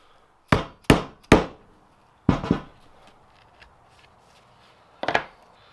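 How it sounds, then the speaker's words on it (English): A very sharp Freud chisel from Italy strikes a glued wood joint, giving three quick sharp knocks, then a couple more, and one last crack after a pause, close and dry. "Super duper sharp chisels. Freud's made in Italy."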